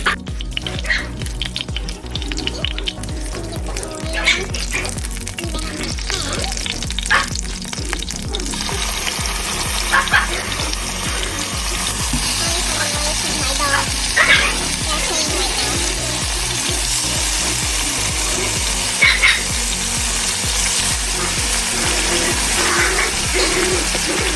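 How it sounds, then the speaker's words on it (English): Pork steaks frying in a pan for Filipino bistek, a loud, steady sizzle that builds and holds for the whole stretch, with stirring noises early on and speech at moments. "now at this point, what we're going to do is we're going to fry the pork chop."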